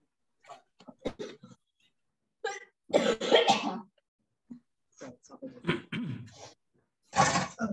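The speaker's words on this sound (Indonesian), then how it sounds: "Yang batuk-batuk siapa itu?" Several harsh coughs come in short bursts during a class lecture, separated by quiet gaps, fairly close and clear.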